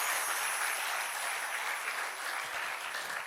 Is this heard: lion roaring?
no